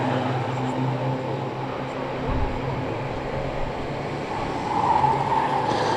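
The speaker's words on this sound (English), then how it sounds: "Tyres squeal into the home straight then." Ministox race cars at Cowdenbeath's oval, engines roaring steadily with tyre noise as cars push into the home straight, the roar swelling louder toward the end.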